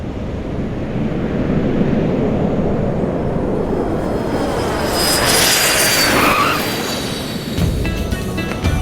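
A fixed-wing airplane on final approach to land, its engine roar steady and broad throughout, swelling slightly in the middle as it passes fairly close, with no talk.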